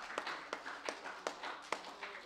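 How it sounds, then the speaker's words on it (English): Church congregation clapping at a Sunday morning service, a sparse rhythm of distinct claps with a steady murmur underneath, fairly quiet and a little distant. "Let's give the Lord a big hand clap this morning."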